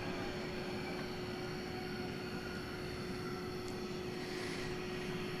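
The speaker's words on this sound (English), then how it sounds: "Airbus A321 is approaching the starting line over here on the 18" An American Airlines Airbus A321 taxis toward runway 18 Right at DFW at night, giving a faint, steady, distant engine rumble with a thin whine that stays even throughout, with no talk.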